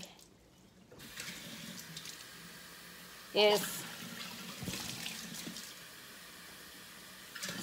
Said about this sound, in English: Normally what I do is put water and ice in it.